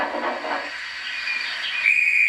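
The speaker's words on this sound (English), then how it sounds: "Oh, that's my conductor's whistle." Train conductor's whistle at a station, a thin, steady high tone that sharpens near the end over a soft steam hiss, heard alone.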